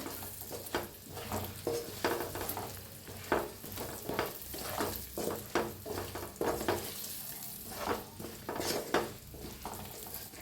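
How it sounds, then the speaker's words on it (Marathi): Chopped green tomatoes fry in a pan with roasting masala, giving a steady sizzle broken by repeated scraping stir strokes of a spoon against the pan at an uneven rhythm, close and fairly loud. "ही टमाटो ह्याच्याबरोबर थोडंसं फ्राय करून घेऊया"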